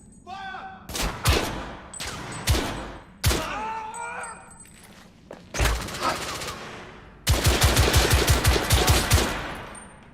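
Gunfire in the video game The Order: 1886, loud single shots and short bursts with echoing impacts, ending in a rapid automatic volley; no speech over it.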